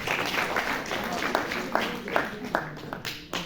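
Audience at a book release function clapping, fairly quiet, with scattered claps mixed under someone talking.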